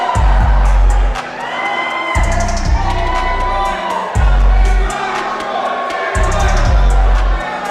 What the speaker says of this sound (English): the crowd is going crazy over Stuntman and his tidy whities